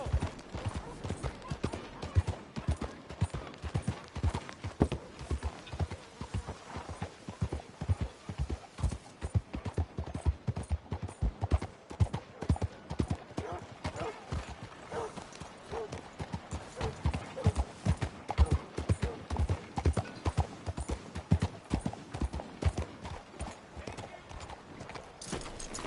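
Horse hooves clip-clop in a steady galloping rhythm throughout a Red Dead Redemption 2 ride, with occasional whinnies and some voices over the hoofbeats.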